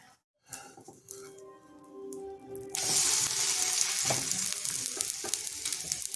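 An eggless omelette fries in oil in a pan, with oil added both under and on top; a quiet start gives way at about three seconds to a loud, steady broadband sizzle with crackles, close and without talk.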